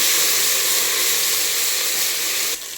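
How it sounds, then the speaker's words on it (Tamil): Mint sautés with softened onions in a pan, making a loud, steady hiss and sizzle close by that drops off abruptly near the end. "இப்போ புதினா சேர்த்துக்கலாம். நல்லா வதக்கி விடலாம்."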